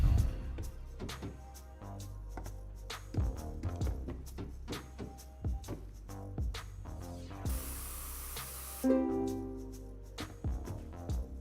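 Spray painting in a painting simulator video game: a long steady hiss of the sprayer runs under rhythmic game clicks and taps, with a brief louder burst of spray and background game tones.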